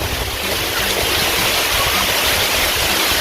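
Warm tropical rain pours steadily on an island, a dense, continuous hiss and patter with a low rumble underneath, close and fairly loud, with no voices.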